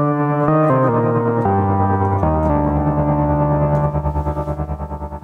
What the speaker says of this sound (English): And again, we can have super quick tremolo.